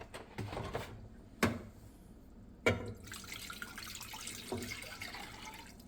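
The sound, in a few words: distilled vinegar being poured and spilled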